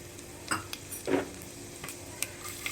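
Cumin seeds hit hot oil in a pan while cooking crispy okra, giving a faint, steady sizzle with a few soft clicks and a brief stir scrape, quiet and close.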